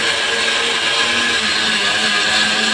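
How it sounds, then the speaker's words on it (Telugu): A mixer grinder grinds sugar into powder with a loud, steady, unbroken whirring roar that holds at constant strength throughout. "కొద్దిగా షుగర్ వేసుకొని మిక్సీకి వేసి గ్రైండ్ చేసి పొడి కొట్టుకోవాలి"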